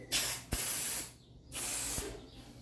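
Cleaning spray hisses into a fan during maintenance in two loud, steady bursts, each about half a second to a second long, with a brief pause between them.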